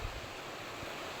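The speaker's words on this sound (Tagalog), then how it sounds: "minsan lalo pa bumugso yung hangin" Wind gusting steadily outdoors during a rainy morning, a constant broad rushing roar with a few deeper buffeting surges against the microphone and no talking.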